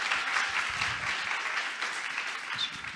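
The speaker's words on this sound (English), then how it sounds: "Let's give him a round of applause." An audience at a science communication panel discussion breaks into applause. The clapping is brisk and fairly close, holds at an even level for a few seconds, and carries no speech.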